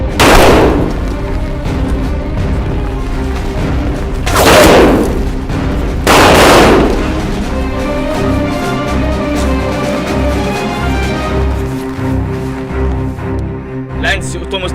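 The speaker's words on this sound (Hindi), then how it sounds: "अरे फायरिंग हो रही है, जल्दी आओ।" Gunfire in a dubbed action-movie firefight: three loud, sharp shots spaced a few seconds apart, each with a booming tail, over a tense background score as voices talk.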